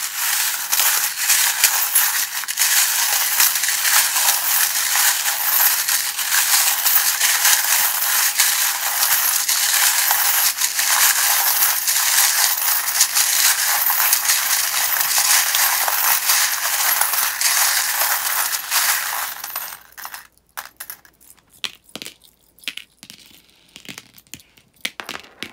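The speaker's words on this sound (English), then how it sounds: "you don't like the sound of the charms being shuffled" Dense, continuous rattling and clinking of small hard charms and dice being shuffled together for about twenty seconds, then a few scattered clicks and taps.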